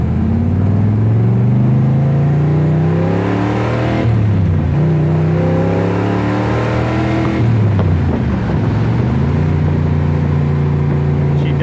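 A 1971 Chevrolet Corvette with a 454 V8 accelerates hard, its loud engine climbing in pitch through several gear changes with brief dips between pulls. The sound is close, powerful and continuous.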